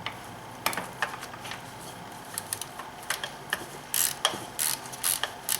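A hand ratchet tightens a valve cover bolt on a BMW N52 engine, with quick, close bursts of fine clicking that grow denser toward the end.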